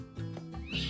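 A cat meows in a short, close, loud cry with a rising, whining tone, heard alone without talk.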